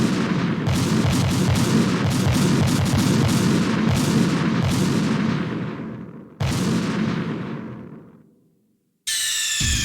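Rapid gunfire in Metal Gear Solid 2 fills most of the stretch as a dense, loud barrage that breaks off briefly, resumes, then fades out before a short bright burst at the end.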